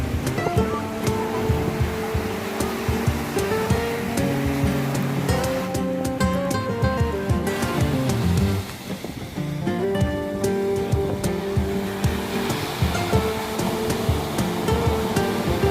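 Ocean surf at Marina Beach in Chennai, a steady loud wash of breaking waves with a brief dip partway through, heard alone without talk.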